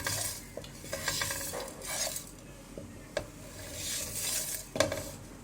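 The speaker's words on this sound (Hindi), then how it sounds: "अब हमने इतना सा रोस्ट करना है इसको कि इसकी खुशबू आने लग जाए।" Spices and ingredients are dry-roasted in a pan over a low stove flame for spicy beef pulao, stirred with a utensil. Steady scraping and rubbing strokes carry a soft sizzle, with occasional sharp clinks of metal against the pan.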